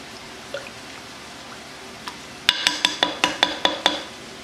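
A spoon stirs homemade tomato sauce into a pot of beef chili with diced tomatoes and green chilies, giving a faint scrape and then a quick run of about eight bright metallic clinks against the pot.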